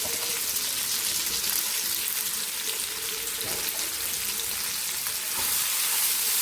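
Chopped ripe jackfruit frying in a hot pan, heard as a steady, even hiss and sizzle from close by with faint stirring touches and no talk.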